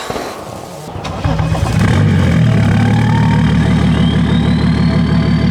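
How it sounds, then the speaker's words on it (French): A BMW 335d diesel idles, then revs hard into a loud, sustained drone, with a rising turbo whine climbing above the roar. "Là, vous entendez le turbo qui charge"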